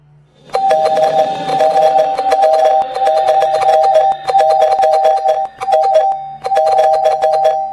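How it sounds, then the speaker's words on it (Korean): A video intercom doorbell chimes over and over in fast succession, loud and close, the rings almost running into each other with only brief breaks. "미친듯이 울리는 초인종 소리"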